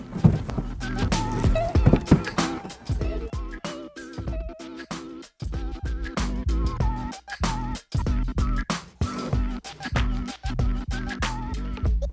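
Plastic wheel well liner being pulled off a 2021-2022 Corvette C8 with a 6.2L engine, close-up scraping, scuffing and rattling of flexing plastic in irregular bursts, with clicks and knocks throughout.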